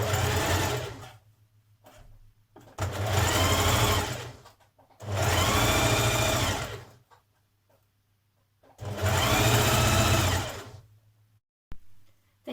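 A sewing machine stitches lace trim onto the edge of a blouse in four loud, steady bursts of fast motor whirring, each a few seconds long, separated by short pauses.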